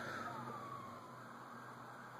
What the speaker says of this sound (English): And now there are sirens.